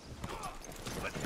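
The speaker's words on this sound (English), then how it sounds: "We're gonna leave the horses here?" Horse hooves clip-clop on the ground in Red Dead Redemption 2, heard as a soft, faint patter of steps beneath a voice speaking in the game.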